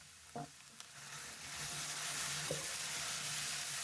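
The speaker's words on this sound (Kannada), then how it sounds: "ಹಸಿ ವಾಸನೆ ಹೋಗೋವರೆಗೆ 1 ನಿಮಿಷ ಫ್ರೈ ಮಾಡಿದರೆ ಸಾಕು." Ginger and aromatics frying in a pan for okra gojju, a soft sizzle that swells and then holds steady, with a couple of faint clinks of stirring, no voices.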